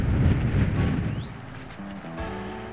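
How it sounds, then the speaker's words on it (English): Steady wind buffets the microphone with low rumbling gusts in Whitehorse Country Park, a faint chirp and brief tonal hum appearing near the end. "It's too windy."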